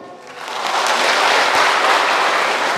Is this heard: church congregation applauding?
yes